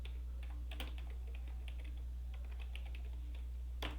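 Name being typed on a computer keyboard followed by a press of the Enter key, close, soft, irregular key clicks over a steady low hum, ending in one slightly louder keystroke.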